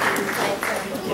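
Audience applause at a 2018 SMM business networking event in Seattle, a short steady wash of clapping from a room of people with voices mixed in.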